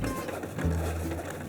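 A Cricut cutting machine runs quickly while cutting doormat material, making a steady mechanical whir with a shift in motor pitch partway through the brief moment.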